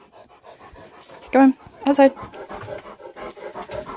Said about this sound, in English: excuse the panting, it's the dog.